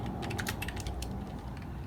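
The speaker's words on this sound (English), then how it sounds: "So we type" A command being typed on a computer keyboard, quick, close clattering keystrokes in a fast irregular run with no break and no talking.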